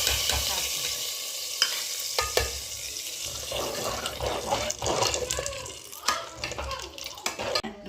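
A tempering of garlic, mustard seeds and dry chillies sizzles in hot oil for a leafy greens sambar, a close crackling hiss with scattered clinks and scrapes of stirring, rising and falling in intensity.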